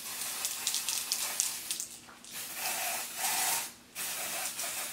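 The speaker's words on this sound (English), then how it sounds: "I'm still going to add just a little bit of my tint spray around the" Tint spray is misted in a series of short, hissing bursts onto the lace edges of a synthetic HD lace wig, close and moderately loud, with brief pauses between sprays.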